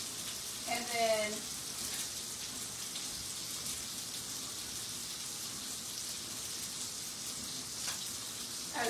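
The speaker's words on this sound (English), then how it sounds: "We're gonna put the garlic and the ginger, and we're gonna like let it get into the oil and saute that a little bit" Garlic and ginger sautéing in hot oil for honey garlic salmon bites, a soft steady sizzle throughout with a brief voice near the start and another near the end.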